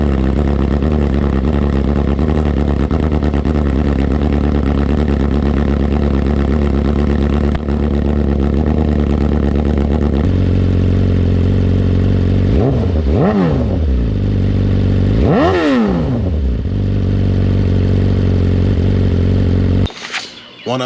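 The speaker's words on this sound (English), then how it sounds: "Aero titanium low exhaust system, and I'll post a sound clip of that here." A 2023 BMW S1000RR with an Akrapovič titanium low exhaust system idles loud and close with a rough, steady rumble, then is revved sharply twice in quick rising and falling bursts before cutting off.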